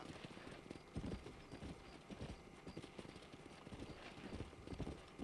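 Horse hooves clip-clop in a quiet, continuous trot in Red Dead Redemption, the steady uneven clatter of several hooves with soft ambient rustle and no clear voices.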